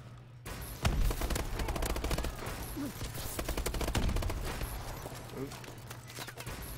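Video game gunfire from shotguns and M1 rifles rattles in dense, rapid volleys through a busy multiplayer lobby, loud and nearly continuous, while a player talks over it.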